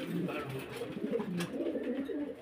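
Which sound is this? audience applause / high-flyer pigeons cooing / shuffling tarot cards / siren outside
high-flyer pigeons cooing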